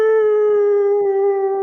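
A person imitates a wolf howl with a single sustained, steady wailing tone held close and loud throughout.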